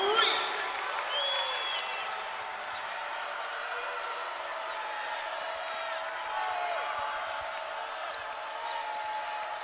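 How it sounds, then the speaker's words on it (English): A basketball arena crowd at Crisler Center during a Michigan vs. Nebraska game, a broad steady roar of cheering with sharp squeaks and whistles, under a commentator's play-by-play. "Chrysler Center crowd getting into it here to start quarter number 4."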